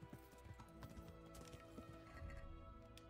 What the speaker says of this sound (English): I just hope I don't lose my horse.